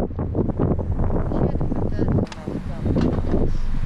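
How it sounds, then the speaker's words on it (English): Wind gusting across the microphone at a mountain highway rest stop, a steady broadband rumble and buffeting that runs throughout with a brief lull near the middle, while someone talks over it. "Pardon the wind."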